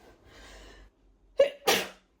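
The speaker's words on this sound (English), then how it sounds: "Sneezes." A soft breath in, then a close, forceful sneeze preceded by a brief gasping catch, loud against near silence.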